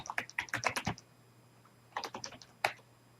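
Keys on a computer keyboard tapped in two quick bursts as an email address is entered at a sign-in screen, a fast run of clicks followed by a pause and a shorter run, close and clear with no talking.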